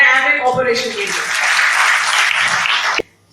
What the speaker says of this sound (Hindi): तो एक बहुत जोरदार तालियां एम्वे कॉर्पोरेशन के लिए।